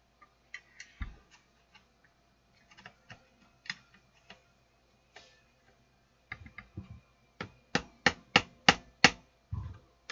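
A screwdriver taps on the circuit board of an old-school Kicker Si200 amplifier, sparse light clicks at first, then a quicker run of sharp, evenly spaced taps close by.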